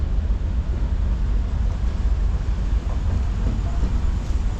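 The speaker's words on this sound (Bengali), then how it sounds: "ফারাক্কা থেকে আমাদের ট্রেন ছেড়ে দিল" A passenger train pulling out of New Farakka Junction gives a steady low rumble and rolling noise, heard from inside, continuous and moderately loud with no voices.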